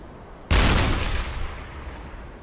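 A submarine deck gun fires a single high explosive shell in the game UBoat, one loud sudden boom with a long rumbling decay.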